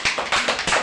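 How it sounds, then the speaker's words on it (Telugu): A group of children clap their hands together in a classroom number game, several quick bursts of claps in an uneven rhythm, close and fairly loud. "క్లాప్స్ కొట్టండి అందరూ ఒకసారి"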